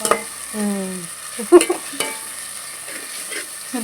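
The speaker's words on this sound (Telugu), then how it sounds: "అల్లం వెల్లుల్లి పేస్ట్ మాత్రం కంపల్సరీగా నేను ఎక్కువ వేస్తాను. అందుకని చెప్పి ఫ్రై చేసుకుందామండి." Ginger garlic paste fries in a pan with a steady low sizzle while a spoon stirs and scrapes, giving a few sharper clinks against the pan.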